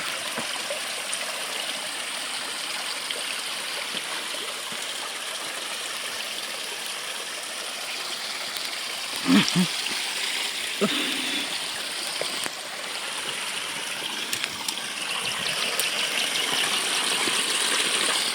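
The Khardu stream near Dharan flows steadily as a broad, even rush of water close by, unbroken for the whole stretch apart from a few brief knocks and handling noises.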